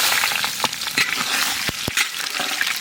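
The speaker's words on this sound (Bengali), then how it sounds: "তেল গরম হয়ে গেছে, দিয়ে দেবো" Onions dropped into hot oil with whole garam masala, bay leaf, coriander seeds and cumin for mutton, frying with a steady close sizzle broken by sharp crackles and stirring clatter, no talk.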